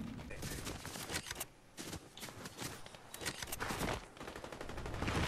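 Gunfire in the video game Fortnite, including a shotgun, comes as rapid bursts of loud sharp shots with brief gaps between volleys, filling the whole stretch.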